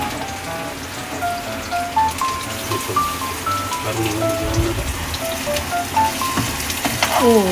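Meat and onions fry in a pan with a steady crackling sizzle, scattered pops and light clatter throughout, with some background music.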